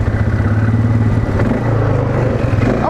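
A $1500-to-$3000 ATV engine churns loud and close through mud during a mudding test, a steady low growl with throbbing pulses and slight rises in pitch, with no talk over it.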